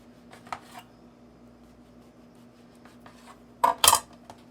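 A knife trims the crusts off a slice of bread for croutons, giving faint, soft scrapes early on and a sharper cluster of cutting and rasping strokes near the end in a quiet kitchen.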